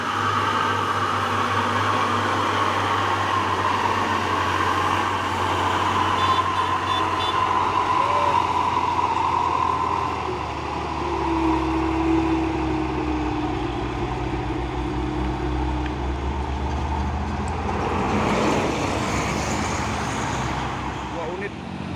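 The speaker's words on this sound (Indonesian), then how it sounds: "Tiga unit truk tangki CPO pemain engkel semua ini ya" Three single-axle CPO tanker trucks driving uphill on a road, a steady, droning engine rumble under continuous traffic noise, with people talking over it.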